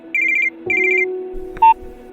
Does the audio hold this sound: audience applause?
no